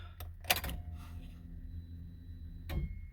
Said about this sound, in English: you're going to hear a click from the relay.